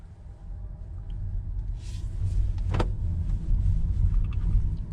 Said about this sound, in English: It's got that woom woom woom woom woom electric sound that it makes.